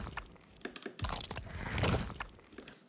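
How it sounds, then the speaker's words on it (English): Organic foley sample of crunching: close, irregular crackles and crisp crunches, with denser squishy crunching in the middle, loud and dry with no voices. "So I've chosen a foley sample which sounds like this."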